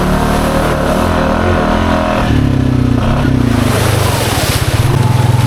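A Honda Foreman ATV running in second gear on 32-inch Aztec tires roars loud and close, its engine holding a steady drone, then rising with a pulsing, throbbing rev toward the end, with no voices.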